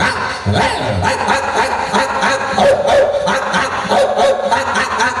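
A voice imitating dogs barking and yipping during a storytelling event, a rapid series of barks and whimpers, fairly loud and close, with no other talk.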